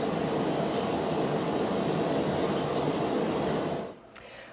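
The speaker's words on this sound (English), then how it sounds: "we've got a stream of steam coming out of our vent pipe" Steam jets steadily from the vent pipe of a pressure canner on a stovetop, a loud continuous broadband hiss that cuts off abruptly near the end, leaving near silence with a brief faint click.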